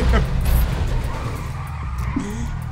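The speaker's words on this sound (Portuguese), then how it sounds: "o carro capota mesmo" A car in the video game GTA V skidding and rolling over, a loud tire squeal and scraping slide with engine rumble at close range, heard alongside a player's excited voice.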